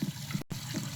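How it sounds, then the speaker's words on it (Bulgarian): Water running continuously in a Roblox video game, a steady trickling and gushing flow with a brief dropout midway, heard alone without talk. "Остави я водата да си тече там."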